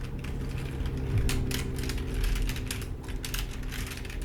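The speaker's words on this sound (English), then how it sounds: "making some noise on my keyboard" Steady, close typing on a computer keyboard in a quiet room, a continuous run of soft, rapid key clicks with no voices.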